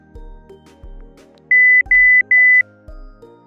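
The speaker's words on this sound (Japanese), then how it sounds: "消火 後音声もしくはアラームにてご案内します" A Paloma water heater's safety alarm sounds three loud electronic beeps in quick succession over a soft, chiming background melody.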